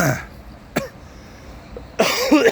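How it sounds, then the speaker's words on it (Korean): A single cough near the start, a brief throat sound a moment later, then a louder cough burst at the end, close and otherwise quiet. "아 기침 왜 이렇게 나오는 거야?"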